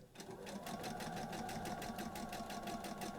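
A sewing machine stitching a seam on fabric for a storage caddy, running steadily with a fast, even rhythmic needle pulse, close and continuous throughout with no pauses.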